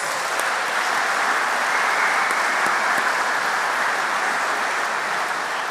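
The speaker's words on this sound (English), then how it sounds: "can we get a round of applause for the wonderful Robert Scott, please?" A large crowd claps steadily and loudly in Dunedin Town Hall at a hospital rally, a dense sustained wash of applause that neither builds nor fades.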